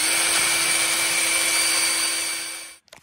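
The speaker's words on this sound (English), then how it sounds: "I got a big drill bit on here," A big drill bit bores through rear disc brake conversion parts for an 1982 Honda XR200R, run steadily by hand as a loud, continuous whine for nearly three seconds before stopping with a couple of faint clicks.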